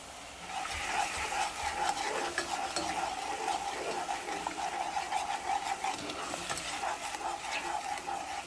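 Brown sugar and water are stirred together in a pot over medium heat, giving a continuous scraping, swishing stir with a faint sizzle, close and steady throughout, with no talking.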